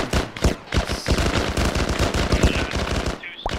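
Sustained rapid machine gun fire in the military shooter game Arma 3, loud and close with dense repeating shots throughout and a short gap near the end.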